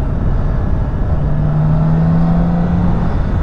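A BMW K1600B motorcycle engine pulls steadily under acceleration, a loud, continuous drone with a rising tone blended with rushing wind noise, close and with no voices.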